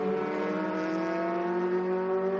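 A race car engine at Watkins Glen holds a steady, moderate drone with strong harmonic tones, pulling without climbing to high revs, continuous and fairly close, with no talking.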